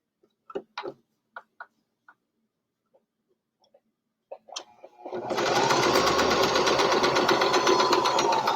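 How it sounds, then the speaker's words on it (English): A sewing machine stitches a fabric mask, starting after a few quiet clicks and taps and then running steadily and loudly alone for several seconds with a fast, dense mechanical whir. "I will sew that real quick"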